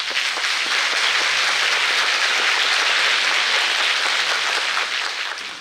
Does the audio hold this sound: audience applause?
yes